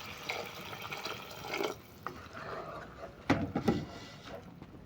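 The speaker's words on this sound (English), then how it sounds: "add in a little bit of water" Water being poured into a pot of beans stew with pre-boiled beans, a light watery trickle and splashing that swells into a couple of brief louder gushes near the end.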